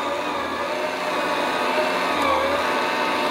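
A Popeil electric pasta machine hums steadily as it mixes and extrudes pasta dough, a close, continuous motor whir with no pauses or speech.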